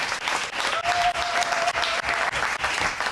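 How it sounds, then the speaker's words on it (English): Sustained audience applause at a press conference announcing a housing and arts space, dense steady clapping throughout with a brief faint tone in the middle. "Can we give them another round of applause?"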